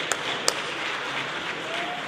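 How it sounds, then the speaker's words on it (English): An audience applauds at a community event on healing after violence, a steady, moderate clatter of clapping with a couple of sharper claps standing out near the start. "Let's have another round of applause."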